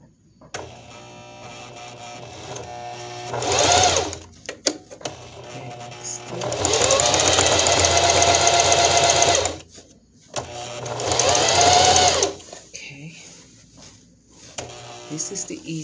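A sewing machine whirs in three bursts, the longest lasting several seconds, as it sews a stuffed item closed. Clicks and handling noises fill the gaps between bursts.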